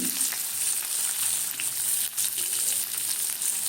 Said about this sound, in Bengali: রসুন দিলাম, ওটা লঙ্কা দিলাম।